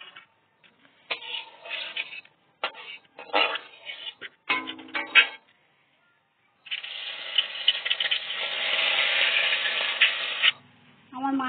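Bata fish rubbed with salt and turmeric dropped into hot oil in a home kitchen: several short bursts of crackling and clatter give way to a sustained, loud frying sizzle, then a brief sharp noise at the end.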